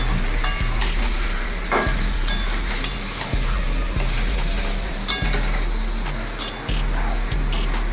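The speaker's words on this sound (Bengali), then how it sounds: "মাছগুলোর সঙ্গে ভালো করে মশলাটা আমি মাখিয়ে দেব।" Lote fish tossed with spice paste in a pan, a continuous sizzling stir with scraping of the spatula at regular intervals and a few light metallic taps, close and alone without talk.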